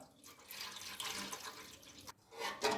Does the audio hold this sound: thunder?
no